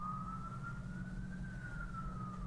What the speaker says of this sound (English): I hear an ambulance going by.